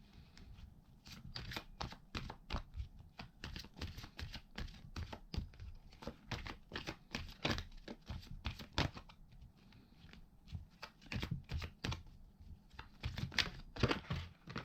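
A deck of cards is being shuffled and cards drawn one after another for a tarot-style reading, giving dense, rapid papery riffles and snaps that run steadily with no talking.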